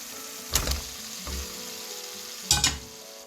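Taro root (arbi) tipped into a pan of spiced gravy and stirred, giving short bursts of wet sizzling and scraping at a steady frying hiss, close and fairly loud, with no talking.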